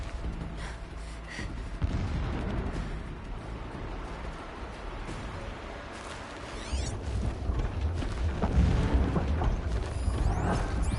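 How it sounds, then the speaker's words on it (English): Distant explosions rumble in the Horizon Zero Dawn game: a continuous low, booming roar with mechanical clanks over the top, swelling louder toward the end, with no talking. "Explosions in the distance."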